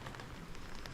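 Faint rain patters softly on a surface in Juneau, Alaska, a brief, even hiss of drops with no other sounds.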